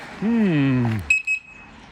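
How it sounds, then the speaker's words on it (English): The alarm on a Honda GL1800 Goldwing motorcycle gives a few short, sharp electronic chirps close by, after a falling, voice-like tone. "It's a little extra sort of alarm on it."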